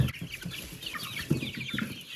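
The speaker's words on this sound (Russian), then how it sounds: "вот это петушок доминанта Чехия" A small grey-and-white Dominant Czech rooster clucks close by, a quick run of short soft calls with no voices.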